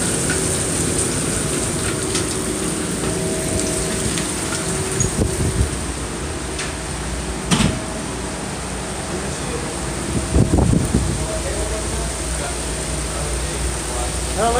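Hail and rain fall steadily outside, heard from a stairway as a dense, even patter with a few louder bursts of drops hitting a surface; no voices.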